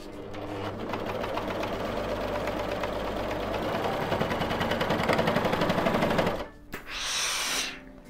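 A BERNINA sewing machine runs steadily at speed, stitching the side-and-sleeve seam of a T-shirt with a close, even mechanical whir, then stops; a short rustle of fabric follows.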